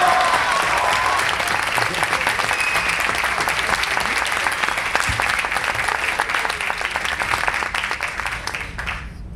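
Sustained audience applause fills a hall after a Les Luthiers moment, a dense, loud wash of many hands clapping at a steady level for about nine seconds before cutting off abruptly, with faint voices mixed in.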